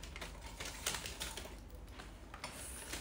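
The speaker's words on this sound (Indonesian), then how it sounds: "Kita ngetik angka biar apa sih?" Rapid keyboard typing of numbers during a live idol-group showroom stream, a steady patter of close, crisp key clicks running throughout with no talking.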